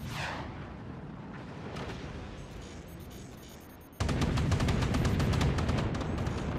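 Artillery fires in the video game Forts, a heavy boom followed by a sudden louder roar of sustained blast and crackling noise that continues to the end.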